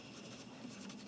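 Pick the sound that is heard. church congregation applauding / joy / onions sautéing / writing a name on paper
writing a name on paper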